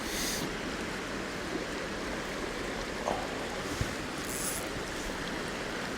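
A rising river flows steadily nearby, a constant broadband rushing of water with no break in the noise.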